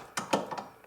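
A socket wrench tightens the nut on a Ford Fiesta hood strut, giving a few quick, close ratcheting clicks in short bursts.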